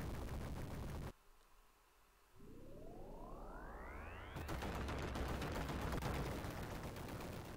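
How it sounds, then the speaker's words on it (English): A retro video-game explosion from TMNT: The Cowabunga Collection: loud harsh noisy blasts, a brief drop, a rising electronic sweep, then a long, sustained roar of crackling static. "Very satisfying explosion."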